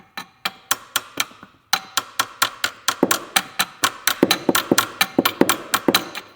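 A hammer tapping on a pry bar wedged against a part of a BMW E30, a run of sharp metallic taps, some evenly spaced and some quicker, close and fairly loud with no talk.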